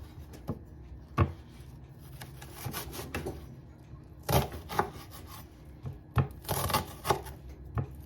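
A knife chops garlic cloves together with onions on a board, giving irregular dull knocks and scraping rubs at close range, with no talking.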